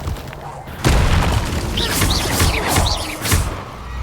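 The Revelio spell cast in Hogwarts Legacy, a sudden deep boom followed by a shimmering, swelling magical wash with chirpy tonal sweeps, loud and close, with speech in the background.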